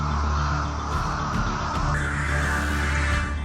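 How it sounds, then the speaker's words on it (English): A large flock of rooks roosting in a Korean city, such as Osan, Suwon or Ulsan, caws in a dense, continuous chorus of overlapping harsh calls, loud and close throughout. "Huge numbers of rooks fly to the city to sleep."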